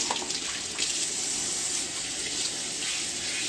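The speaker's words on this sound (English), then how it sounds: "So we rinse the plate" Running tap water streams steadily into a sink while a plate is rinsed, a continuous close splashing hiss with no voices.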